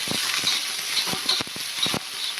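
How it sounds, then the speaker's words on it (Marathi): Onion fries in hot oil in a pan with a steady close sizzle and a few soft stirring strokes, no voices. "तेल चांगलं गरम झालं ना की आपल्याला कांदा घालून घ्यायचा आहे आणि कांदा हलकासा लाल करून घ्यायचा आहे"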